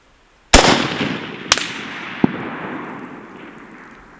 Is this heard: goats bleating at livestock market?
no